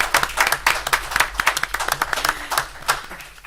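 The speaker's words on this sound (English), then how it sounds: "Let's give them a round of applause for making that deliberate effort." Scattered hand clapping from a small crowd at a city council meeting in Florence, South Carolina, uneven and sharp, with a faint hum of voices underneath.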